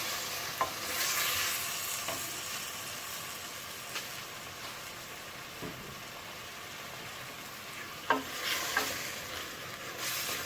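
Pieces of beef tongue sizzle and fry in a pot, with a steady broadband hiss, faint scrapes and a few small clinks from stirring.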